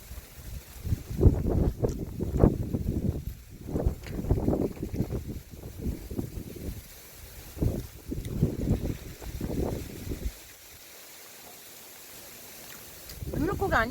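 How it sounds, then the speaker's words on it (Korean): Strong seaside wind at Yeosu during a shore-casting fishing trip, roaring in heavy gusts and buffeting the microphone, with brief lulls and people talking over it. "바람이 너무 많이 불어."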